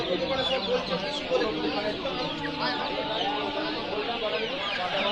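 Steady clucking from several native chickens fills a noisy village poultry market in Nepalganj, mixed with background chatter.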